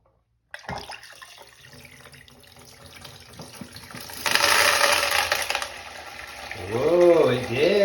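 A toilet flushes rocks after a sudden start: water rushes and gurgles, swells into a louder surge midway, then swirls down with a rising whoosh near the end, close by.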